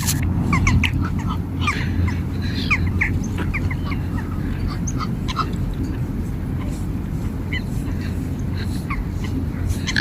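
Geese honk and call in scattered bursts over a steady outdoor rumble at Kensington Palace in London, with other fowl chattering nearby at moderate volume throughout.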